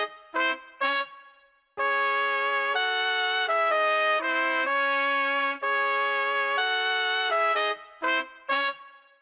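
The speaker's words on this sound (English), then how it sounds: "the main element that makes this track is the brass loop, and that sounds like this" A brass loop from the Devotion tech house and minimal sample pack plays alone: short stabbed horn chords, then long sustained brass phrases, then another burst of clipped stabs.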